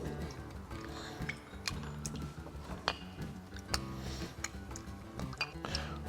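A muddler works orange slice, cherry, bitters, dry curacao and soda water in a rocks glass, a steady series of quiet taps, crunches and small clinks against the glass.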